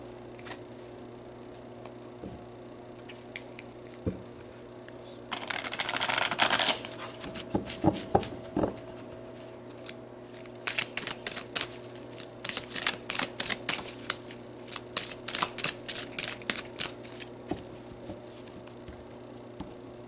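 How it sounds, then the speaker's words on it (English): Oracle cards shuffled by hand: a low steady hum underneath, then a burst of riffling around the middle, followed by repeated quick crisp card snaps and flicks in irregular clusters, close and fairly loud, with no talking. "Let's pull you an oracle card."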